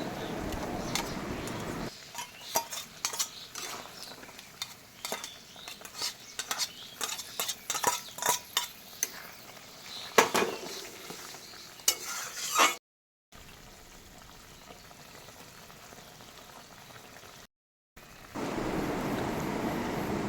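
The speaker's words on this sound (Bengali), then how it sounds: "ভালো করে একটু নেড়ে চেড়ে দেখো" A spoon stirs shukto vegetable curry made with Malancha greens stems in a pan, giving intermittent scraping and light clinks against the metal over a soft simmer; the sound briefly cuts out twice near the end.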